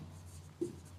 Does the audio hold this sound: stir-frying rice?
no